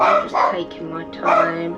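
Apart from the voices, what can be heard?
dog barking in the background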